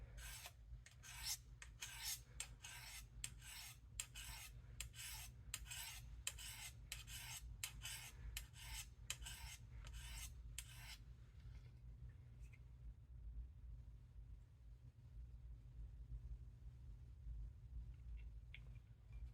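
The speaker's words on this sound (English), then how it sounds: "we'll just like hone it up a little bit here on these ceramic rods" A Case USMC knife is drawn over ceramic sharpening rods in a quick, steady run of rasping strokes, close and fairly quiet, before the honing stops and low background hum continues alone.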